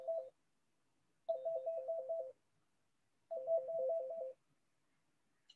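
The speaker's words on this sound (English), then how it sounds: "Only if I press this button, this radio will sound a dial tone" Three short bursts of a trilling electronic tone, warbling rapidly, each about a second long with quiet gaps between, close and clear.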